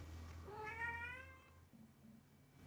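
A cat lets out a single drawn-out meow, rising then falling, close and clear over a low background hum, with no talking.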